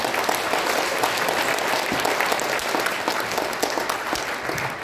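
An audience at a gathering in a Seoul hotel claps loudly and steadily, a dense, even wash of applause throughout with no one speaking over it.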